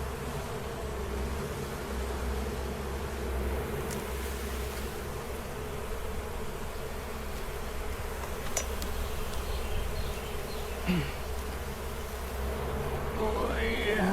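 Honey bees buzz in a continuous, dense drone during a beehive inspection on the Mississippi coast, steady and close throughout with a few louder passes near the microphone.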